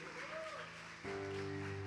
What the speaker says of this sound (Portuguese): Aplauda Jesus agora